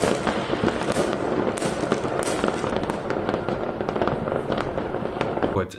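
Fireworks and firecrackers go off in a street, a dense crackling volley of sharp bangs and pops that keeps coming throughout, loud and unbroken.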